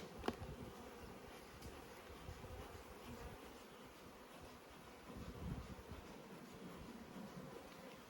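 Agitated honeybees buzz steadily at a large hive after one was crushed and a little smoke applied, a dense, continuous drone close to the ear with a brief sharp knock near the start.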